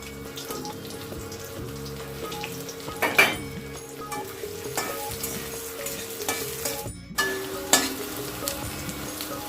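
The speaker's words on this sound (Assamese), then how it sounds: "এতিয়া মই ইয়াতে আকৌ তেল দি দিছোঁ এতিয়া দি দিছোঁ পিঁয়াজখিনি" Onions fry in oil in a pan for an Assamese dry fish and eggplant dish, a low continuous sizzle with occasional stirring clinks and scrapes, fairly quiet and without talking.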